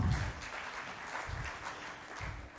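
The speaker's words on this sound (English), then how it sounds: "A round of applause for her" An audience at a rural youth agribusiness forum gives a speaker a short round of applause, heard as a soft, distant wash of clapping that stays fairly even throughout.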